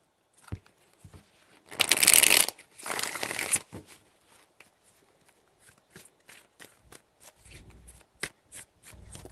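Tarot cards are riffled and shuffled in two brisk bursts, followed by a string of soft taps and slides of cards being handled and laid down.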